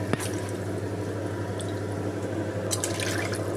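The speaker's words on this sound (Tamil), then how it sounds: "இது கூட அப்படியே புளி தண்ணியும் ஊற்றிடுங்க." Tamarind water is poured into a pot of kollu rasam, horse gram soup, giving a soft steady trickle and a few drips and splashes close by over a low background hum.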